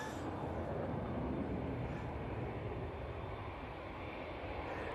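A Juneyao Airlines jet in a special livery departs Manchester Airport for Shanghai, a faint, distant, steady engine roar holding for several seconds with no break.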